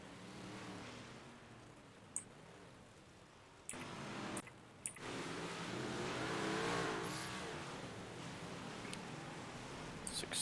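A big block modified race car on the Fairbury Speedway dirt oval in iRacing growls and revs faintly, with a few sharp knocks as it slams into the wall.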